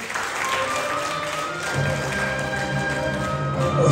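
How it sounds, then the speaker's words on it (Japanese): Warm applause from the audience at a karaoke entertainment show during an autumn shrine festival in Japan, a steady broad wash of clapping that swells slightly toward the end, with a sustained musical tone running underneath. "温かな拍手をお迎えください。"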